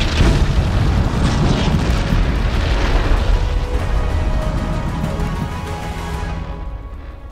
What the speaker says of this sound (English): And then everyone got nuked.